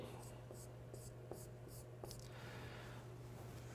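A pen or pencil writing by hand, with quick rhythmic scratching strokes and small taps close by, over a steady low hum.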